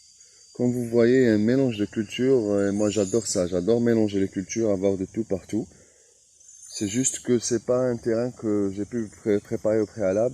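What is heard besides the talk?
cicadas singing in hot summer garden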